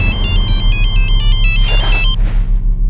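Telephone ringtone in a TV crime drama, a repeating electronic trill that stays loud and steady throughout, then cuts off near the end with a brief rustle, over a low steady hum.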